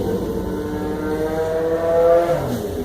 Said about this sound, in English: It's still bike week down here, so I'm sorry for the noise.